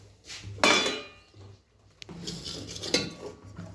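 A metal lid is set onto a cooking pot on a gas stove after the flame is turned off, giving a few sharp clanks and clinks of metal cookware, with a louder knock near the start and another toward the end, fairly close.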